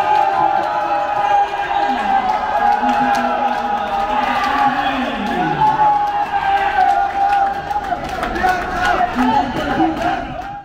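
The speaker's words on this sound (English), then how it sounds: "The crowd goes wild." Stadium crowd at a SEA Games athletics event in Cambodia cheers and roars continuously, a loud dense wash of voices with rising shouts, heard close and sustained throughout.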